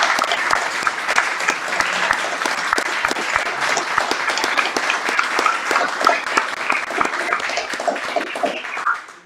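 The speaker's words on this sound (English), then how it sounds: "you should just give yourselves a round of applause" An audience gives sustained, dense applause at the closing ceremony of a week-long game jam, a steady wash of many hands clapping that carries through and stops abruptly at the end.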